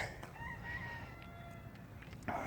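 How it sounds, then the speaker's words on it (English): Chickens and a rooster at a small chicken farm, with faint crowing and clucking carrying from a short distance over steady outdoor background noise; no one speaks. "at my favorite little chicken farm that's nearby here"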